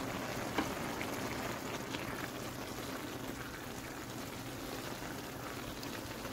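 Guar bean curry boiling vigorously in a pot gives a steady, even bubbling hiss that holds for several seconds at moderate, fairly faint level, with no voices.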